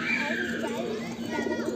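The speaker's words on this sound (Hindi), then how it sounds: "ये फुलसरा कबूतर है" A Fulsara pigeon coos in soft, rounded, throaty phrases close by, with a voice talking over it the whole time.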